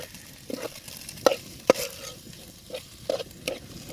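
Spice powder being stirred into frying mutton blood and liver, with scattered metallic scrapes and clanks over a low sizzle, close up and irregular, no voices.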